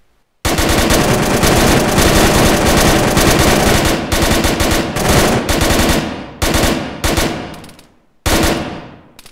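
Sustained automatic gunfire in the Arma military video game: a long, loud rapid burst, then shorter bursts separated by brief pauses, close and without talk.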